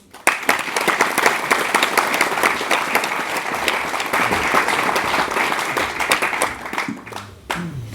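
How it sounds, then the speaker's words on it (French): An audience applauds to welcome Idriss Aberkane, with many hands clapping steadily and densely for several seconds before tapering off near the end. "Donc je vous demande d'accueillir, d'applaudir Idriss Aberkane"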